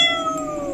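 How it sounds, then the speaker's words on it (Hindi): A cat gives one drawn-out meow, loud and close, sliding slowly downward in pitch as it comes out of a locked cupboard, with no talk over it. "ये बिल्ली इस बंद अलमीरा के अंदर से कैसे निकली?"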